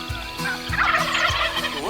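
Rio Grande wild turkeys gobble in Texas country, several loud, close rattling gobbles overlapping in quick succession across a couple of seconds with no other voices.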